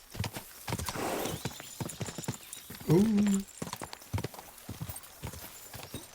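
A horse in the video game Kingdom Come Deliverance 2 trots with a steady run of close clip-clopping hooves and gives a short neigh partway through, while a person speaks briefly.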